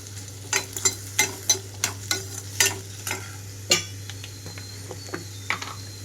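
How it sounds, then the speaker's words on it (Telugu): Cucumber pieces fry in a pan under a soft, steady sizzle, with repeated sharp scrapes and clinks of a spatula stirring them at irregular intervals. "దోసకాయ ముక్కలు 2 నిమిషాల పాటు వేగితే చాలు"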